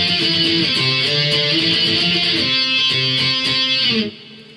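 A guitar plays the intro fill of a song: a quick run of chord and octave notes, played up close and alone, that ends sharply after about four seconds.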